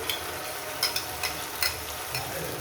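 Ground spice paste fries with onions in a pan for a spicy katla fish belly curry, making a faint, even sizzle dotted with a few light clicks of stirring.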